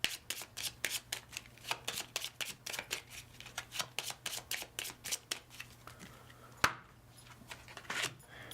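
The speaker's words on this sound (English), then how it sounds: "So let's reshuffle this quick." A deck of cards for the board game Ignite is shuffled close up during solo play, a quick run of crisp riffling bursts with a sharp snap near the end and no talking.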